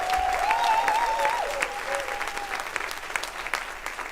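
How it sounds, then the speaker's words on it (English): A crowd at a town hall in Greenville, South Carolina, applauds Pastor Mills, a dense burst of clapping that swells and then gradually thins, with a faint voice or tone briefly audible over it. "let's give him a round of applause there"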